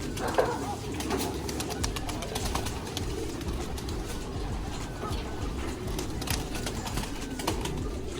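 Racing pigeons coo continuously at close range, a soft burbling chorus layered under light background noise, with voices faintly in the mix.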